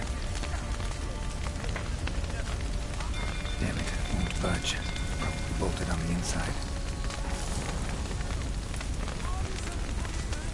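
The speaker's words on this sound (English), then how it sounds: "Looks like rain." Steady rain falls in the video game Witcher 3, a dense, continuous hiss and patter that holds level throughout, mixed with crackling fire as someone speaks over it.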